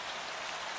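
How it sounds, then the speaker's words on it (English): Soft, steady rain pattering on a turf roof, an even continuous hiss of drops with no voices. "Outside, rain begins to patter softly on the turf roof."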